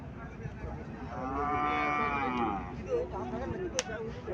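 A Haryana breed bull calf, about a week old, moos once in a drawn-out, wavering call, close and clear over steady background noise, with a brief sharp click near the end.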